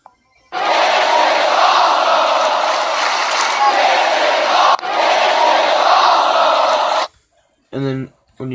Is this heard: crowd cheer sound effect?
yes